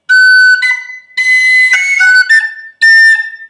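A tin whistle plays the opening phrase of the Irish tune The Connachtman's Rambles in clear, bright notes that alternate tongued and slurred, with a brief shrill squeak partway through, close and loud with no talking.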